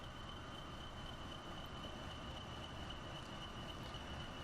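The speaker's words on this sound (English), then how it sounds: "the train for the loop line comes out here" A train rolls along the loop line in the Transport Fever 2 game set in the UK, a steady low rumble with wheel and carriage noise and a faint constant whine, holding at an even level throughout.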